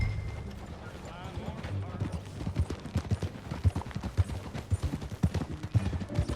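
Horse hooves clip-clop steadily while riding in the video game Red Dead Redemption 2, a rhythmic, fairly close beat over a low rumble, with voices talking in between.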